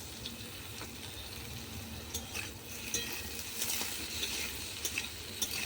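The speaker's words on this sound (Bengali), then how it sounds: "ওই একই বেগুনগুলো দিয়ে ভেজে নেবো" Eggplant pieces sizzle and crackle steadily in a pan over a clay stove, with occasional stirring clinks, close and moderately loud, no talking.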